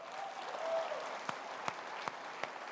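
Faint, distant applause from an audience acknowledging volunteers at a meeting, a soft spread of clapping with a few sharper isolated claps standing out near the end.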